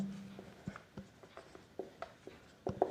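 A teacher writes a question on the classroom board during a commerce lesson: a quiet series of separate scratchy strokes and taps, grouped more tightly toward the end, with no talking.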